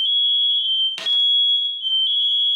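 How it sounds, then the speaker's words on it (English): A kitchen smoke alarm sounds a continuous high-pitched electronic tone, set off by oil smoking in an overheated pan, loud and close, briefly interrupted by a short clatter partway through. "I had to open up all the doors to air out my kitchen so the alarm would stop going off"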